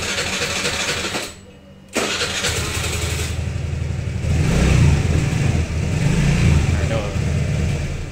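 A Suzuki Address scooter engine cranks briefly, cuts out, then catches and runs at a steady idle with a rise in revs, loud and close.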